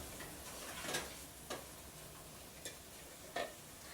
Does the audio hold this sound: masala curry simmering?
yes